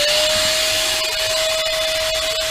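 Shop vacuum suction runs steadily in a workshop during a vintage Charles Parker vise restoration, a loud, constant whine and rush close by with no talking.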